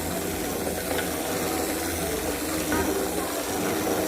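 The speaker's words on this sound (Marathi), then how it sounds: "चला चला, आता थोडंसं ग्राइंड करून घेऊया." A mixer grinder whirs steadily and loudly, grinding drumstick (moringa) soup ingredients with cumin powder in a Marathi home kitchen, with a continuous dense motor drone throughout and no talking.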